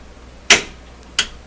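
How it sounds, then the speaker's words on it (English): Power switches on a Nordmende Caruso C console snap twice, two sharp, close clicks about 0.7 seconds apart over a quiet background. "That's the sound of the switches being thrown."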